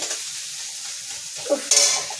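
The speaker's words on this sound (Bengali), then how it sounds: "চলো পেঁয়াজ লঙ্কাটা একটু ভাজা হোক, তারপরে সব মশলাপাতিগুলো দেওয়া হবে।" Onion and green chili frying in oil in a cooking pan, a steady close sizzle with a couple of louder stirring scrapes toward the end and no talking.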